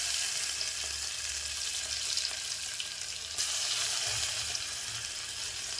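Crushed garlic frying in a hot oil tempering on a low flame gives a steady, dense sizzle that holds evenly throughout, close and fairly loud, with no voices.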